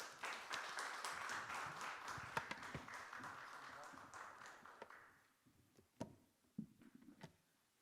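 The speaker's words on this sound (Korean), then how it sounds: "이 시간에 강사님 나오실 때 큰 박수로 환영해 주시기 바랍니다." An audience applauds as a lecturer comes out, a dense burst of clapping that fades after about five seconds into a few scattered claps and soft room noise.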